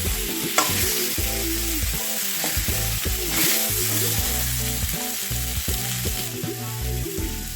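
Potatoes sizzle and fry in a pan while being stirred, with a steady crackle and repeated scraping strokes of a spoon or spatula across the whole stretch.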